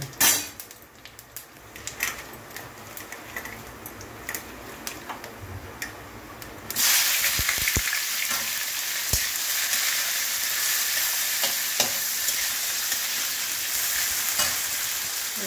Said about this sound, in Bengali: এবার পেঁয়াজ ঢেলে দেবো।